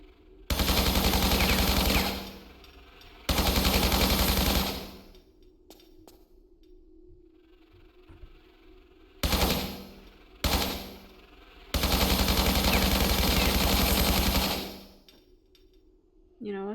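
Long sustained bursts of automatic gunfire from Tomb Raider III Remastered, loud and close, cutting in and out in several separate volleys with quieter gaps of game ambience between them.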